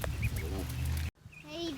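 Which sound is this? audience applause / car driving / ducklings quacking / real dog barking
ducklings quacking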